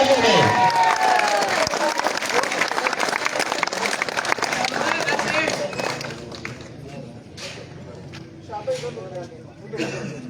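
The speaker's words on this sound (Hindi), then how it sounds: "आपकी बहुत बहुत तालियों में।" Loud crowd applause and cheering at a cricket tournament final awards ceremony, heavy clapping that thins out midway, with the crowd's voices continuing underneath and scattered claps near the end.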